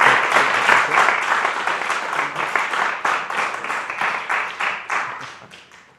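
A live show audience bursts into a round of applause, sharp individual claps at first, then fading gradually over several seconds as the room settles.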